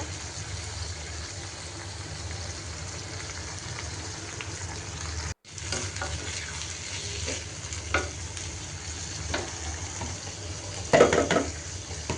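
Gourd peels frying in oil, a dense steady sizzle up close, briefly cut off midway, with a few louder scraping stirs near the end.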